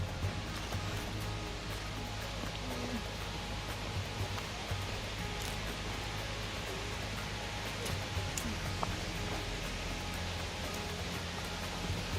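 A steady, even rush of falling water from a waterfall in Karura Forest, heard from a short distance on a hike, with no voices over it.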